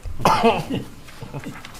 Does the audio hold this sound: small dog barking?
no